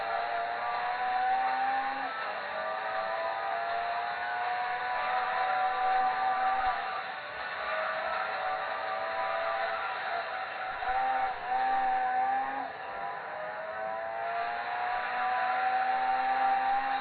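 1986 Toyota MR2 1600G Limited Supercharger racing in Gran Turismo 2, a steady high engine whine rising and falling through gear changes, loud and continuous for the whole stretch with no voices over it.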